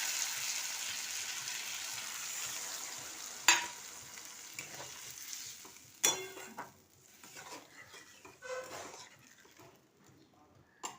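Water poured into spiced masala frying in oil in a pan for a parshe fish curry with green tomato: a steady sizzling hiss, sharp bursts of spitting, then quieter bubbling with faint scraping.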